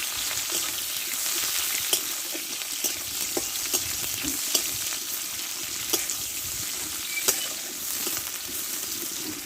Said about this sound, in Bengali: পেঁয়াজটাকে আমি দিয়ে দেবো পেঁয়াজটা একটু ভালো করে ভেজে নেবো